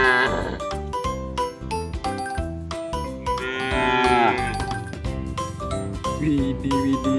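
A cow moos amid busy, loud children's music with jingling tones, the long low call standing out in the middle of the mix.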